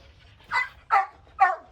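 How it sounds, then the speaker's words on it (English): A nervous small shelter dog gives three sharp, yappy barks at a steady pace. They sound close and clear over a quiet background, with no talking. "We got a little barker smurf."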